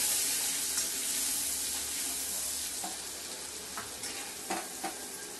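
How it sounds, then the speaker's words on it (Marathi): Thecha, a green chili paste, sautés in a pan for Khandeshi-style vangi bharit, with a steady close sizzle and a few spoon taps and scrapes later, no voices. "आता ठेचा काढून घेऊ. त्याला आता चांगला परतून घेऊ."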